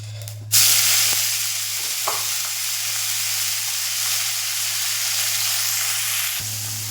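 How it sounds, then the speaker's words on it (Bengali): Egg and greens fry in hot oil with coriander and fried onion, a loud steady sizzle that starts abruptly and holds evenly over a low constant hum, close by with no talk. "ডিমের শাকটা আমি একটু ভেজে নেবো।"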